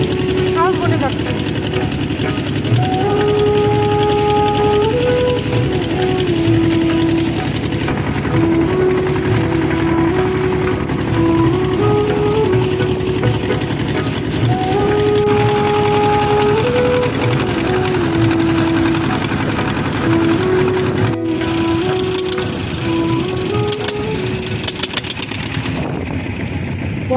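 A small dinghy motorboat from the Tanguar Haor watch tower carries people to a houseboat, its engine droning steadily and loudly throughout with a buzzing, sewing-machine-like chatter while voices talk over it.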